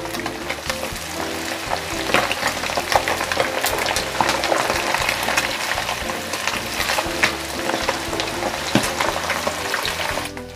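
Pieces of tuna dusted with a little wheat flour fry in hot oil in a pan, a dense, continuous close sizzle with scattered crackles and pops as the fish is turned over.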